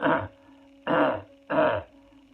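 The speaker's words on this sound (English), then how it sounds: "all I can suggest is, without full demonstration, is that you clear your throat" Three short, rough throat-clearing bursts in a steady rhythm, close and fairly loud, with a faint hum underneath between them.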